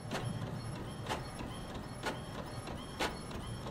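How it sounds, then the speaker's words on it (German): A loud printer in the video game The Mortuary Assistant chugs mechanically, with sharp clacks about once a second over a constant whirring hum and no talking. "Meine Güte, ist dieser Drucker laut."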